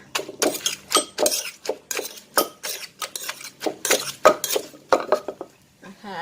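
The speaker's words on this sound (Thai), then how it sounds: "ก็ตำให้พอ ยุบยุบนะคะ" A pestle pounds papaya salad in a mortar with steady, fairly loud thuds, each strike carrying a slight clatter, in an even repeating rhythm that pauses briefly near the end.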